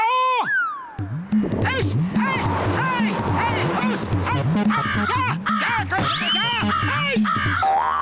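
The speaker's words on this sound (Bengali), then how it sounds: "এত কাকের আওয়াজ কেন আসছে গো?" A flock of cartoon crows caws in a rapid, overlapping, loud chorus from a tree in the Motu Patlu animated show, with cartoon voices speaking as well.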